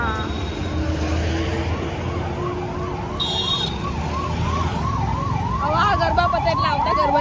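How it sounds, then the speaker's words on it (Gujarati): An ambulance siren on Civil Road sweeps up and down in a steady wail, running continuously over dense city traffic rumble and growing louder toward the end. "સિવિલ રોડ ઉપર એમ્બ્યુલન્સનો અવાજ ના આવે તો સિવિલ રોડ ના કહેવાય."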